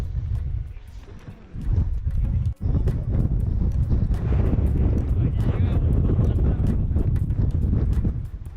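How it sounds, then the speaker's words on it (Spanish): Strong wind at Torres del Paine buffeting the microphone in heavy, continuous roaring gusts, loud and close, with a brief drop and a sharp break near the start before it surges again. "Hay mucho viento aquí. Está muy fuerte el viento."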